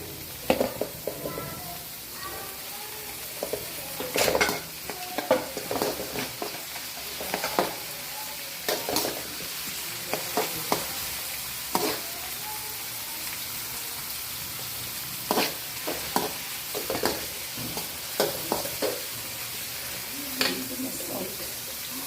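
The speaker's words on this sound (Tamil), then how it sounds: "எண்ணெய் சட்டியில் வந்து சட்டியில் வந்து எண்ணெயை ஊற்றி பீன்ஸ் வந்து எங்கள் அம்மா போட்டு கிண்டியிருக்காங்க" Beans and vegetables stir-fried in oil in a pan for paneer fried rice, a soft steady sizzle with irregular scraping and clinking stirs of a spatula throughout, close and moderately quiet.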